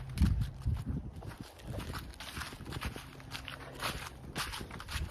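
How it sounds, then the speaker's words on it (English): Soft, steady footsteps crunch and swish over grass at a walking pace, close by, with faint outdoor ambience in the background. "maybe I'll just walk on the green, on the grass right now."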